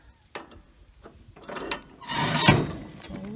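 Hustler X-ONE commercial zero-turn mower's deck height lever being pushed in and lifted, giving a few light mechanical clicks and ratcheting clunks, ending in a louder rattling clatter near the close.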